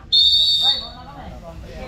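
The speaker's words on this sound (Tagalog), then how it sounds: "Hina naman ang pito mo!" A sharp, shrill whistle blast at a downhill and e-bike race during a bike festival, loud and close, sustained for about half a second and then trailing off into outdoor crowd noise.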